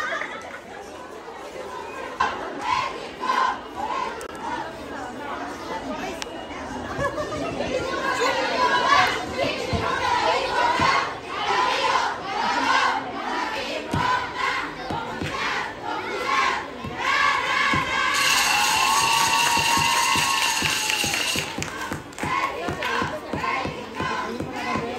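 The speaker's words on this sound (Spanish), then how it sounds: "Un fuerte aplauso para los niños" Lively crowd at a kindergarten's sports-style school event, shouting, cheering and chattering continuously and loudly, with children's voices and cheers swelling in the second half.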